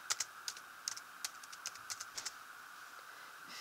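Typing on a computer keyboard: a quick run of crisp, close key clicks in an uneven rhythm over a faint steady hum, with no voices.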